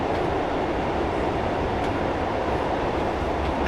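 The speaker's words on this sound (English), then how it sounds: "I'm now going to idle the power and allow the train to coast." A Class 142 Pacer diesel railcar coasting with power idled in Train Simulator 2015, giving a steady, fairly loud rumble of wheels and running noise with no distinct clicks, unbroken throughout.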